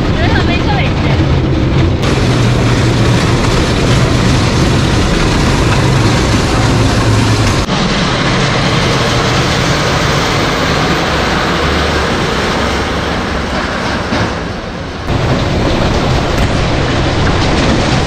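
A small train ride at the Sai Heritage Village in Shirdi: a steady, loud rumble and clatter of the moving ride fills the whole stretch, with brief shifts in tone and people talking over it.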